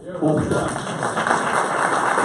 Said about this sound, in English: And a big round of applause for Ryan